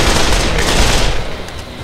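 Dense, loud automatic gunfire roars without pause in the Dead Island video game, a continuous rattling barrage close up that eases slightly toward the end, with no voices.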